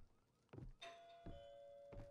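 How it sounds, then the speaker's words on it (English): A doorbell chimes in a horror video game, a bright ringing tone sustained across the clip, framed by a few dull thumps before and during the ring. "A doorbell."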